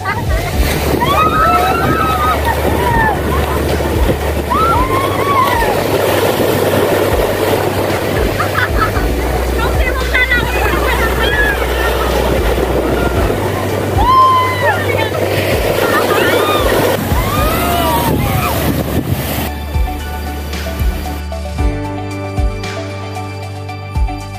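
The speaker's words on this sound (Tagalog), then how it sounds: "Maligo sa nakakaakit na ganda ng dagat kasabay ng bawat hampas ng mga alon" Sea waves washing onto the beach at Agoo, La Union, with a loud, steady roar of surf and wind filling the whole stretch and a brief quieter tail at the end.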